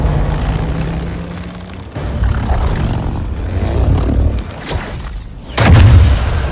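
A chain of deep booming explosions in the fighting game Injustice 2, heavy low rumbles rolling and surging in waves, with a final loud blast near the end.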